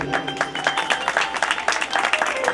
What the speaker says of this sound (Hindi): मैं और मेरी जान हैप्पी भैया के लिए जोरदार तालियां बजाइएगा।